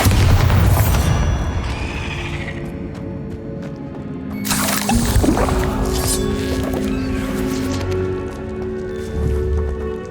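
A Bombarda spell explosion in the video game Hogwarts Legacy, a heavy booming burst with crashing debris and rumble, set among continuous game sound effects and music-like drones.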